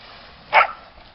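A small dog gives a single short, sharp bark at close range against a faint background.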